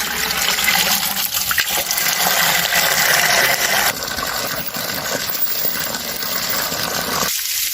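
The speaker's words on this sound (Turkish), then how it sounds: "ben suyu tekrar boşaltacağım arkadaşlar" Water poured out of a dog's water bowl, a steady loud gushing splash running for several seconds close by, easing slightly toward the end.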